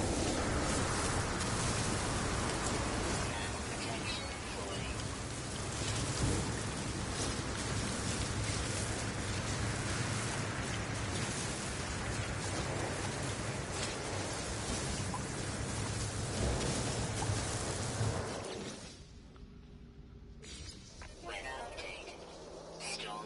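A rainstorm with thunder in the video game No Man's Sky: a dense, steady hiss of rain with occasional low rumbles, then an abrupt drop in level near the end as the storm clears.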